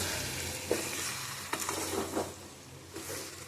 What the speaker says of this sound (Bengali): এবার ভালোভাবে নেড়ে ছেড়ে নাড়তেই থাকবেন।